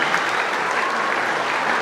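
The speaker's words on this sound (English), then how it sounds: "a big round of applause" Dense, steady applause from a crowd at the 2026 Koroit Irish Festival, honouring the festival ambassador, loud and continuous throughout with no voices breaking through.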